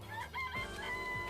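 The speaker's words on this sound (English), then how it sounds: "I know y'all getting tired of me pressing these chickens" Chickens cluck and squawk in the video game Danganronpa Trigger Happy Havoc, a short burst of fowl calls over a sustained musical background, fairly loud and close with no talking.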